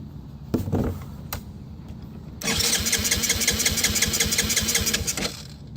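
A 1985 Yamaha Moto 4 80cc engine has its idle mixture adjusted. A few brief knocks come first, then the small engine catches and idles steadily, close and loud, with a buzzing putter lasting several seconds.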